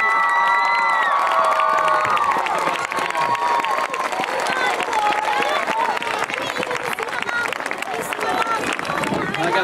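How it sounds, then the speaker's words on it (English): An elementary school audience at a student presentation breaks into loud applause mixed with cheering and children shouting, a continuous crowd roar with whoops and voices throughout. "And we can make it a big round of applause"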